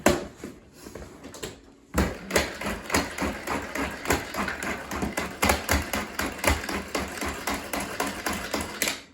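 Rhythmic mechanical whirring and clattering from a hand-cranked Tupperware food chopper, repeated pulses close by after a short quieter start.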